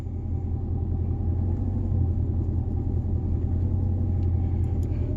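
A Mercedes CL550 with a mechanical fault gives off a steady, heavy low rumble with a faint rattling texture, continuous and fairly close, with no talking.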